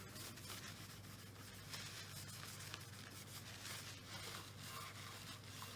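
A cloth wipes excess cleaning product off a Fender Telecaster guitar, a soft, steady rubbing and swishing close by with no talking.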